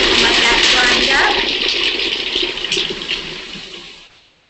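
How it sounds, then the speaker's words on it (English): A blender grinds soaked, thick Brazil nuts in a raw banana coconut cream pie recipe. The whirring is loud and steady, then slowly fades out near the end. "Put all that in. The Brazil nuts are pretty thick, so you want to really soak them for a while. Let that grind up."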